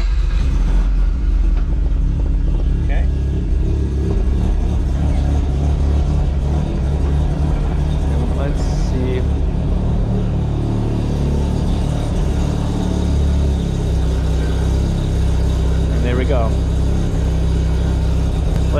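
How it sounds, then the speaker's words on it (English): Rotary-engined Corvette running on a flex-fuel E85 setup, a loud, steady low engine rumble idling close by with faint knocks and a brief squeak over it. "I'm gonna fire up the car first"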